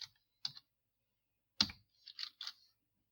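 Sparse keyboard typing at a computer, a few quick clicks, then a short burst of keystrokes after a pause, close and fairly quiet with no talk.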